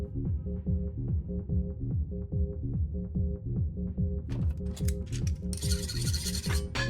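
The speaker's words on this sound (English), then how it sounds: "Now's the time for the handsaw." A handsaw cuts through a shotgun barrel in a video game, heard as rhythmic back-and-forth rasping strokes, close and loud, ending in a brighter scraping, metallic burst.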